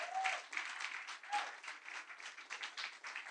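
A church congregation breaks into applause during a sermon, moderately quiet and steady, with scattered claps and a few faint voices mixed into the crowd sound.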